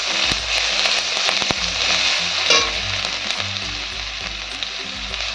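Curry leaves with chopped ginger and garlic frying in a pan for a mixed-lentil dal, a steady close sizzle and crackle with occasional stirring scrapes, no voices.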